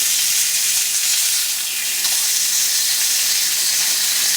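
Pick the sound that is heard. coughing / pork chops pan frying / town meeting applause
pork chops pan frying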